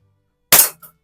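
A single sharp crack from a vintage Beeman P3 air pistol fired at a target outdoors on a cold winter day, loud and close after silence, followed by a faint short impact.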